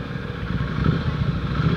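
A Honda motorcycle engine runs nearby in La Union, a continuous low throbbing rumble at moderate loudness with a slight pulsing beat and no voices over it.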